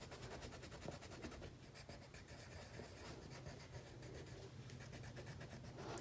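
Yellow coloured pencil pressed hard across paper, a steady scratchy rasp of strokes running throughout, close and fairly faint over a low background hum.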